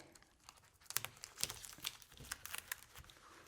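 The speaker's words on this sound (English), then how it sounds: "This book of scary Hitchcock tales clearly needs the royal treatment of all this packing tape." Packing tape pulled and smoothed onto a paperback book of Hitchcock tales during a repair, giving faint crinkling and tearing sounds in short irregular bursts, close and quiet.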